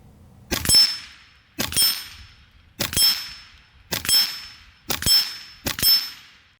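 A .22 Karma Airguns SLS PCP air rifle fires six evenly spaced shots, each followed by a sharp metallic clang of the pellet striking a steel target, ringing briefly before the next.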